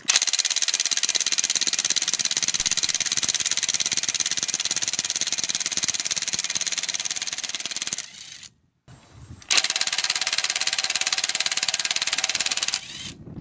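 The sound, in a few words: Ryobi One+ 18V impact wrench undoing a bolt in first speed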